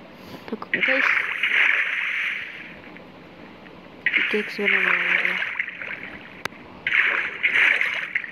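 Water splashes and sloshes in Minecraft in three sustained bursts of hissing spray, with a voice talking alongside and a quieter lull between them.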